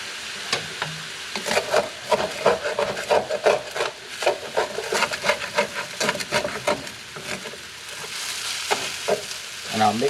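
Fried rice with soy sauce is stirred and tossed in a hot pan, the utensil scraping and rasping in uneven strokes over a steady sizzle, close and with no talk.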